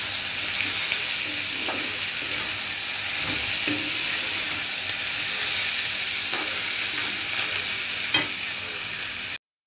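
Cabbage stir-fries in a hot pan with a loud, steady hiss and sizzle throughout, punctuated by occasional scrapes and taps of the stirring spoon, then an abrupt cutoff.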